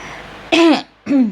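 A person clears their throat twice in quick succession, close and loud, after a brief quiet moment.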